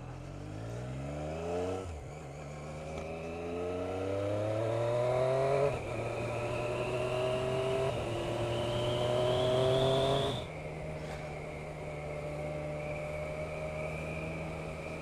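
A 2017 Triumph Street Triple RS motorcycle engine revs upward in repeated rising sweeps through the gears, fairly faint and distant, dropping between shifts before holding a steady drone.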